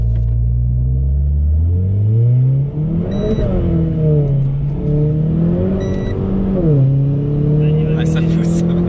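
A stage 2 tuned 1.6-litre Renault Sport engine of over 250 hp revs up and down repeatedly while accelerating, with a loud, droning intake roar that rises and dips in pitch, up close and steady.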